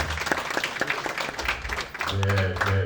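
Short burst of audience applause at a Detroit morning community gathering, clapping from a modest crowd mixed with voices, fading as a low hum rises near the end.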